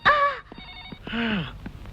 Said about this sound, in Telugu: అదిగో డాడీ ఫోన్ చేసినట్టున్నాడు